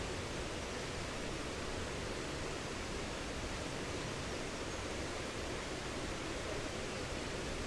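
A waterfall flows over rocks, a faint, even, continuous rushing hiss heard from a distance with no voices.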